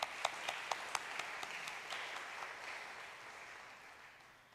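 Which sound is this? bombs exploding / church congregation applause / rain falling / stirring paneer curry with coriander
church congregation applause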